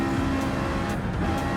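A Ferrari 458 V8 drones steadily at speed during a Gran Turismo 7 race at High Speed Ring, a continuous loud engine roar without breaks.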